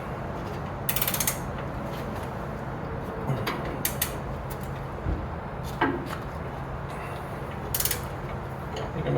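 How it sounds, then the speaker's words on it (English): A ratchet wrench working a tight bolt on a Bronco winch bumper, with short repeated clicking bursts spaced a second or two apart over a steady background of low noise. "I'm going to break my ratchet here."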